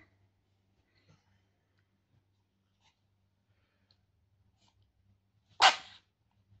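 A single, sharp human sneeze breaks a near-silent room, close to the listener and over in under a second.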